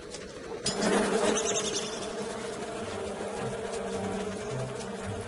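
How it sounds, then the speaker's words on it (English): Bees buzz in the survival video game Don't Starve, a steady insect drone that swells after the first second and holds over soft background game music, with no talking. "There's a bee."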